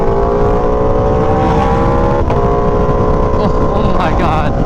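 An Aprilia Tuono V4 motorcycle being ridden, its engine droning loud and close with rising and falling pitch as it shifts through gears with the auto blipper, under heavy wind buffeting.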